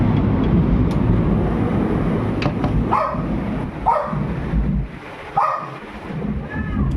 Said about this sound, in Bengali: খুব জোরে জোরে বাজ পড়ছে।